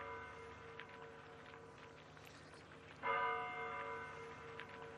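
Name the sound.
monastery church bell ringing at Valaam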